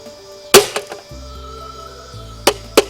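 Sharp hard smacks against a plastic casing, one strong hit then two more near the end, with a low hum in between.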